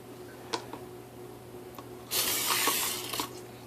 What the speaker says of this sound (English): Now you're just gonna spray the PAM in there.